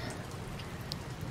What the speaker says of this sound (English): It is really rainy here today.